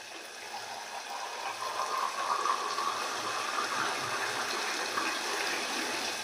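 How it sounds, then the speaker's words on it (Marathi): Water pours steadily into a pan of mackerel curry in a continuous gushing stream, close and moderately loud, with no talking. "आणि आता आपण टाकूया पाणी"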